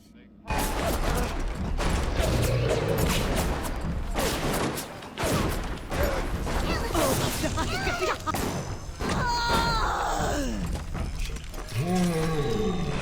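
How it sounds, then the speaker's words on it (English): Pistol fire and combat noise erupt in Bioshock, with sharp bursts and clattering impacts over a busy, continuous mix of game sounds and voices. "Let's get out the pistol."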